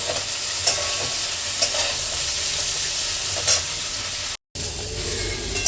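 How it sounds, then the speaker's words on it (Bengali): Vegetables for Bengali shukto fry in hot oil in a pan with a steady, close sizzle, while a spatula scrapes and stirs in occasional clinks, with a brief gap near the end. "মোটামুটি দেখুন ভাজা ভাজা হয়ে গেছে"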